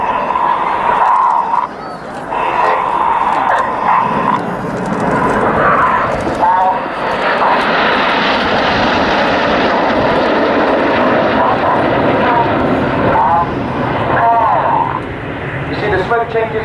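Red Arrows jets performing a flying display at RAF Waddington, a loud, continuous roar of jet engines that rises and sweeps past overhead, with a commentator talking over it.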